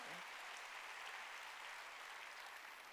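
A church congregation applauds during a Wednesday worship service, a dense, steady wash of many hands clapping throughout, heard at a distance.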